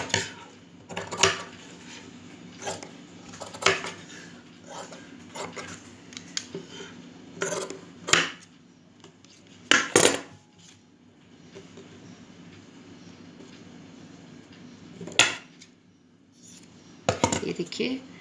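Scissors snip through doubled cloth while pieces are cut for a small Rajasthani-style summer dress for a Laddu Gopal idol, giving sharp, scattered crunching cuts with quiet gaps between them, close by.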